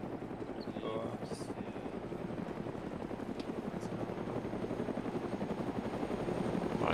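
A helicopter in the military video game Arma 3 gives off a steady, pulsing rotor chop throughout, holding a constant moderate level with voices talking over it.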